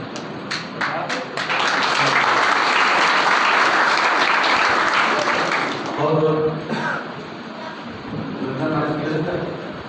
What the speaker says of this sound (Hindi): जो भैया बैठे हैं हमारे उनके स्वागत में तालियां रुकनी नहीं चाहिए